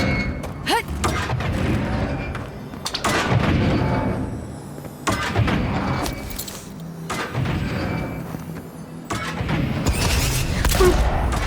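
Gunfire in the Avowed fantasy video game rings out as repeated booming shots and thuds over game music and ambient effects, loud and close across the whole stretch.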